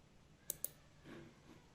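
A mouse button clicks twice in quick succession, two soft, close clicks on a quiet desk, followed by a faint rustle.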